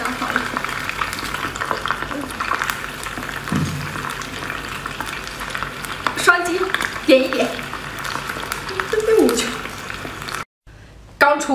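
Food stir-fries in a wok with continuous sizzling and crackling, broken by scraping stirs and clanks of utensils, ending with a brief drop to silence; the frying is loud and close throughout.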